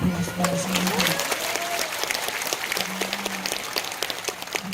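An audience claps at an Islamic preaching competition, a loud continuous patter of applause running through the whole stretch while voices call out and talk underneath.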